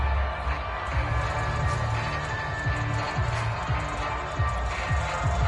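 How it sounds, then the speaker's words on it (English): A large crowd murmurs and cheers steadily in a football video game stadium atmosphere, a broad roar with scattered shouts throughout. "How about some applause for the defense there?"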